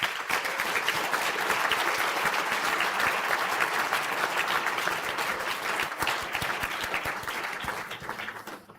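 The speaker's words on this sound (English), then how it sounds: "I'd like to ask the graduates in the High Diploma in Science in Cybersecurity and Risk Compliance to stand up for a well-deserved round of applause" Continuous, dense applause from a large audience greets graduates at a university conferring ceremony in Galway, sustained throughout at an even level before fading slightly at the end.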